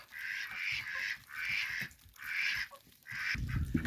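Ducks quack in four raspy bursts with short pauses between, close by at a fenced run beside chickens, ending with some rustling and clatter.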